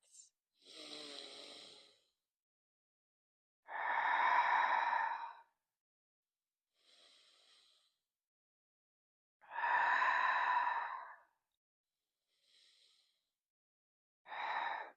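Slow deep breaths during prenatal yoga, long audible inhales alternating with softer exhales, several cycles with silent gaps between, close and calm.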